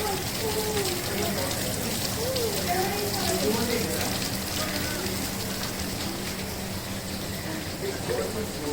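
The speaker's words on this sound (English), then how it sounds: "Hey, it's raining." Rain patters steadily and continuously in Pondicherry, a dense hiss of drops on surfaces, with faint voices and chatter in the background.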